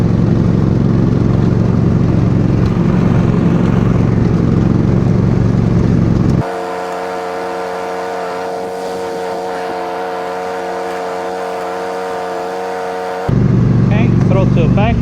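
Riding lawn mower tractor with blade and brush attachments engaged, engine running at full power: a loud, steady mechanical roar whose tone shifts to a strained, humming drone midway and then returns, with talk over parts.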